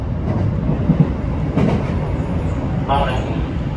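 A JR West 321 series commuter train rumbles along the rails with a steady, loud mechanical roar and faint rhythmic clatter, heard from inside a carriage, before entering an underground tunnel.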